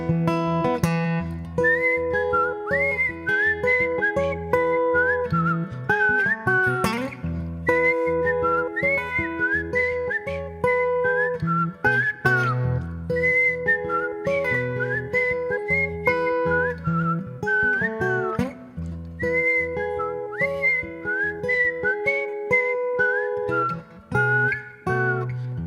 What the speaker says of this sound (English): You can't whistle with dry lips.